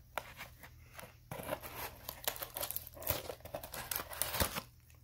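Tape on a cardboard box is snipped and a Hoya plant is unpacked from its fluffy packing, with close, irregular crinkling, tearing and rustling that grows busier and louder toward the end.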